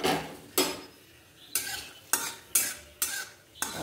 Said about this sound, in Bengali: বাদামটাকে ভালো করে ভেজে তুলে রাখবো